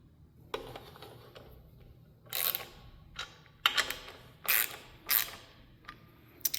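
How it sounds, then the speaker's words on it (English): Ratchet wrench torquing bolts on a MerCruiser marine engine oil filter relocation kit: several short bursts of close mechanical clicking separated by pauses, fairly loud against a quiet background. "then we're going to torque these back down just like the back bolts get torqued"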